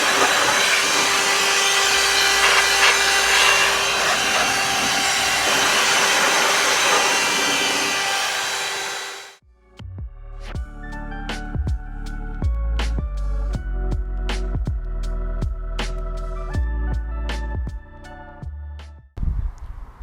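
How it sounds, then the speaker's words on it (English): A small electric blower roars steadily for about nine seconds, drying water off a barn-find Porsche 944 after its first wash, then cuts out, followed by intermittent clicks and knocks. "I'll now kind of get the little dryer out, well, the little blower, and we'll blow all the excess water away."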